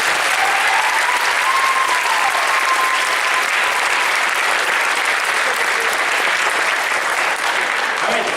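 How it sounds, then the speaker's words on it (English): An audience at a junior high school band concert gives the band sustained, dense applause that stays loud and even throughout, a full roomful of hands clapping together with no one speaking over it. "So give them a round of applause for their superior."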